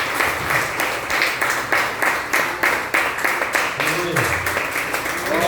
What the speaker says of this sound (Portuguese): Pode louvar o Senhor com palmas